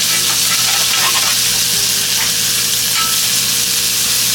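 Hamburger patties fry in a hot pan with a loud, steady sizzle and crackle close up. Grease pops now and then through the dense hiss.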